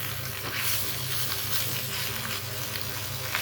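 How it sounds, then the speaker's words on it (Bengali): Pieces of ash gourd fry in oil in a pan, giving a steady, close, dense sizzle that runs unbroken throughout, with no one talking. "আমি আর একটু লাল লাল করে ভাজবো, ভেজে আপনাদেরকে দেখিয়ে দিচ্ছি।"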